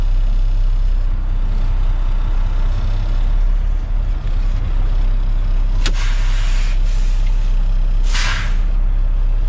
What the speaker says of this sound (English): I'm going to move forward 5 to 10 feet with my hands off the steering wheel